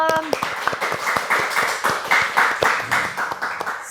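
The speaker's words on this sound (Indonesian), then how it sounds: "boleh tepuk tangan dulu dong." A podcast studio audience claps in a steady rhythmic patter of many hands, close and fairly loud, with a voice briefly heard at the start.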